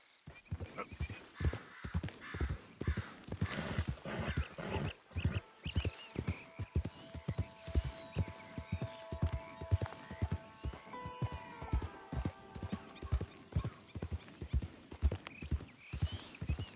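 Horse hooves clip-clop steadily in a video game, a brisk, even trot that runs close and clear throughout, with an occasional whinny and faint background tones.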